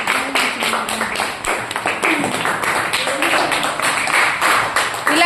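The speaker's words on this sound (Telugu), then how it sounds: "అందరూ క్లాప్స్ కొట్టండి ఒకసారి తేజేష్కి." Students in a classroom clap for a classmate, Tejesh, in a lively burst of applause lasting about five seconds, close and fairly loud, with a few quick claps standing out from the group.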